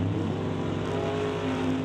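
Camaro drag racing car at a Canada West Doorslammers elimination event: a loud, sustained engine roar at high revs, gritty and continuous throughout with steady harmonic tone, near and dominant.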